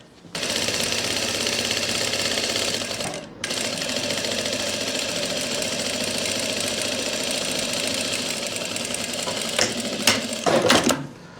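A sewing machine stitches a seam on palazzo pants, running in a steady loud continuous whir with a short pause near three seconds, then carrying on, with a few clicks and fabric handling noises toward the end.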